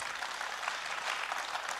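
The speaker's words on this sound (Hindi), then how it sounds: "एक बार जोरदार तालियां बजाइए" An audience at a Hindi poetry recitation gives a burst of dense, sustained clapping throughout, loud and crowded with no voices over it.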